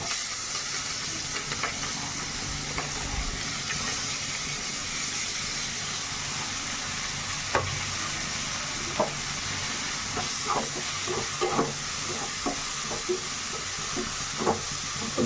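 Onions frying in a pan for an Odia pointed gourd curry, a steady sizzle and hiss throughout with occasional clinks and stirring sounds.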